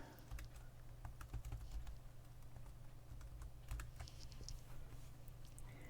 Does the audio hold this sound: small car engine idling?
no